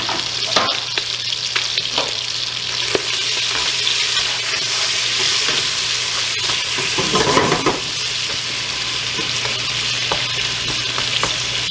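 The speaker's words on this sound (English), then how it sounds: "now we're going to go ahead and add our garlic and our onions. Let's sweat those just a little, 2 minutes." Garlic and onions sautéing in a hot pan for black-eyed peas and rice, giving a continuous loud sizzle with occasional stirring scrapes and clinks of a utensil, close by and without talk.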